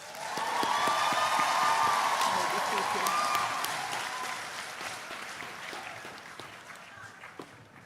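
An audience at a university graduation commencement gives graduates a rousing round of applause, loud and dense at first, then slowly thinning and fading out.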